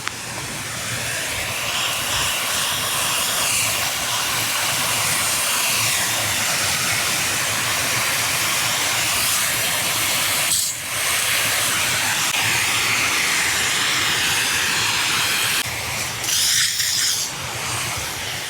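Steady broadband hiss of a garden hose spraying water onto plants while light rain falls, continuous and close, with two brief breaks in the flow.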